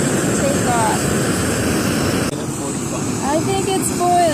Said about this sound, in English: I'm gonna say this sound is why it's called a jet boil